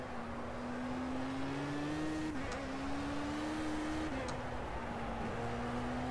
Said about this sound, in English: Should probably be a little bit smoother with the accelerator, but I'm just ramming it on.